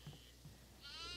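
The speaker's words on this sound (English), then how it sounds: "Goat on the second floor here. There's a goat here." A goat bleats twice in short nasal cries inside an abandoned farmhouse in the horror game Devour. A higher, brighter wavering call rises at the end over a steady low game drone.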